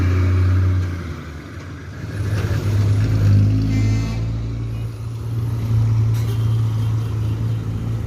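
A Gumarang Jaya intercity bus pulls into the Balisoro bus terminal, its heavy diesel engine droning low and close, with engine tone rising and falling as it maneuvers and a brief hiss like an air brake.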